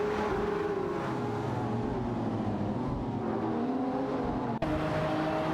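Two race cars in a racing video game, a Mosler MT900 and a Dodge Viper SRT, accelerate side by side, their engine notes rising and shifting steadily and loudly, with a brief dropout near the end.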